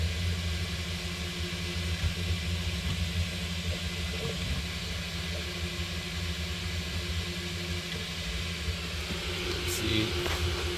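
A Neptune 4 Pro 3D printer runs and speeds up, giving a steady mechanical hum with whirring motor tones and a constant noisy hiss, fairly loud and continuous with no talk.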